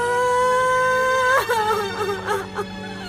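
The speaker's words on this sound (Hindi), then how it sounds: "रोने की आवाज आ रही है किसी की।" A woman's wailing cry drifts in from the street outside, a sustained moaning tone that breaks into uneven sobbing bursts, fairly loud against a steady background hum.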